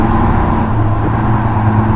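An RV hauler truck's engine drones low and heavy under acceleration, a steady close rumble with road noise blended in.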